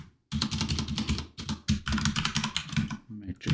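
Keys clatter steadily on a computer keyboard while code is typed, a fast run of close taps persisting beneath a voice speaking over most of the stretch.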